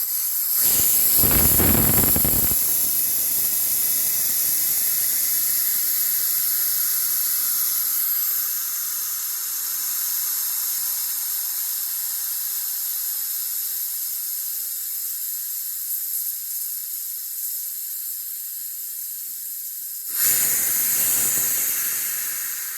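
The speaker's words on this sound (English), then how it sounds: "any moisture trapped in the tank will now be able to drain and be expelled" Airbrush compressor tank drain venting air and moisture: a loud continuous hiss with a spluttering burst at the start and another near the end, steady and close throughout.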